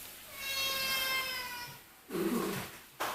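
A house cat meows in a long, drawn-out harmonic cry lasting over a second, close and fairly clear, followed by a couple of short rustling noises.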